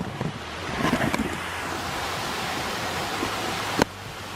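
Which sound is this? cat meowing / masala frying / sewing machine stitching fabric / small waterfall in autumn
small waterfall in autumn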